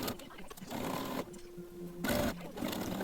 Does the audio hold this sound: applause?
no